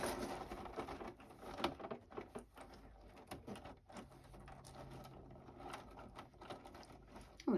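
A sewing machine stitches straight down a fabric heating bag filled with cherry pits, its needle running in quick mechanical patter with brief stops and restarts, close and quiet.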